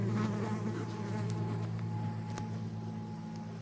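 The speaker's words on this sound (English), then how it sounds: "This one has a lot of bees on it." Honey bees drone steadily around a hive, a close, continuous buzz with a few brief clicks and rustles.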